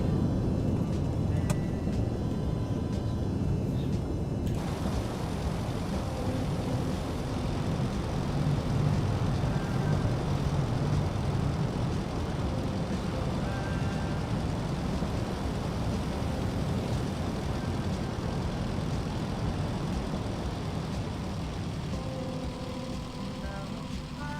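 A Piper PA-28R Arrow light aircraft in Microsoft Flight Simulator 2020 slows down. A steady broadband rush of engine and wind noise carries on throughout, and its airy hiss drops off early as the plane loses speed.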